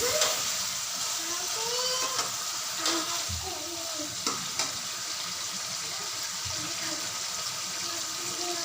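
Chicken and potatoes fry in a pan for aloo chicken shorba, a steady close sizzle broken by scraping stir strokes and clatters of a spoon against the pan, with faint watery splashes beneath.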